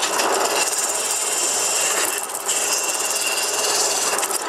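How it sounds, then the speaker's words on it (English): A sander flattens a wooden mandolin neck blank with a loud, continuous abrasive roar and whir that dips briefly midway before steadying again, no talking. "We're going to try to run it through the sander and get this a little bit flat."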